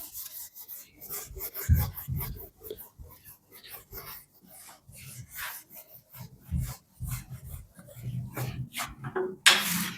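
A board in a physics lecture is rubbed clean with an eraser in a classroom, making repeated close scraping strokes in an irregular rhythm. A voice speaks faintly in the background.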